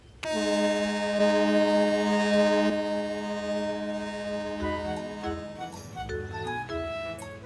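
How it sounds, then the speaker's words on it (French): A loud, sustained horn blast from a ferry, holding a rich steady tone for a few seconds before giving way to quieter mixed sounds. "il laissa même Caillou faire retentir la sirène."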